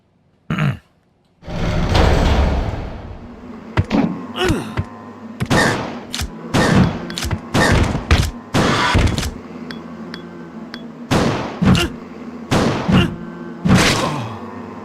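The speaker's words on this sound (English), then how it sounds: "I'm firing point blank at it, and it's not hitting." Gun fired point blank in Resident Evil Code Veronica, a string of sharp, loud shots spaced irregularly over a low background hum, close and dominant.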